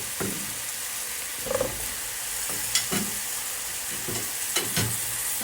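Chicken with peppers and tomatoes frying in a pan with butter and mastic: a steady loud sizzle throughout, broken by a few scraping stirs and clinks of a utensil.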